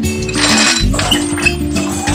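Sailboat winch cranking as the sail is raised, a busy rhythmic mechanical clatter with clicks and metallic clinks, fairly close and steady throughout.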